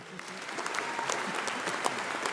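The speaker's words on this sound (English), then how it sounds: "Can I get a round of applause?" Applause from a university graduation ceremony audience, a steady moderate patter of many hands clapping at once, continuous and somewhat distant, with no speech over it.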